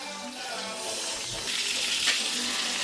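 Pork chops brown in a hot pan for sweet ginger pork chops, a steady, moderately quiet sizzle with a soft crackling hiss that grows slightly louder partway through.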